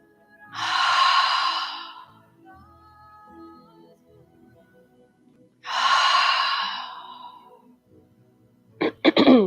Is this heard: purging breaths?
yes